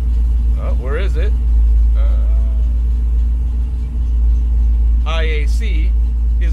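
A car engine runs at a steady, loud, low idle on its first run after an ACES EFI setup, a constant rumble with a voice talking over it at several points.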